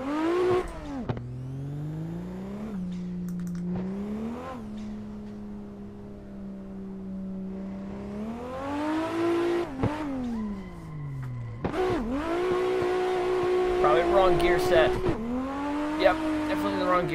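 Toyota A90 Supra drift car in a racing game, engine revving up and down repeatedly through gear changes with rising and falling whine, intermittent tire squeal, loud and continuous for the whole stretch.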